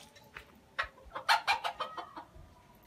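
Desi chickens cluck in a quick cluster of short, sharp calls, rising to a busy burst in the middle before trailing off, fairly faint and unaccompanied by speech.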